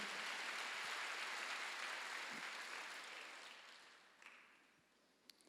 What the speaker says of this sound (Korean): 박수로 하나 둘 셋